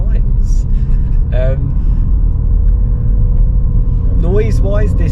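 Ford Focus engine running at a steady idle, a constant low rumble close by, while people talk briefly over it.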